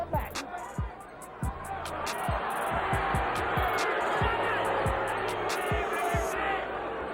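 Boxing arena crowd reacting with a broad, steady roar of murmuring and shouting that swells and holds, with a ringside commentator talking over it and scattered thumps in the foreground.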